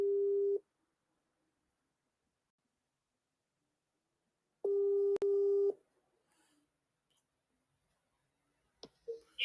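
A telephone line tone sounds while a radio call-in programme dials a listener back: one short steady beep, then a longer beep after a pause, then a few faint clicks and rustles near the end.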